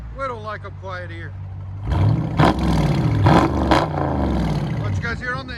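Close, loud revving from a widebody 2021 Dodge Charger Scat Pack, its 6.4L HEMI V8 barking through dual straight pipes in repeated sharp blips, with people talking over the rumble before and after.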